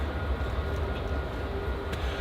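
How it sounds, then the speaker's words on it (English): A steady, low rumble of a train passing at a distance, continuous and even throughout with no voices. "the train going by"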